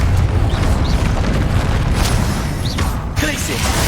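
Confringo blasting spells detonate in the video game Hogwarts Legacy, loud rumbling booms and crackling bursts during combat, with a voice shouting over the din.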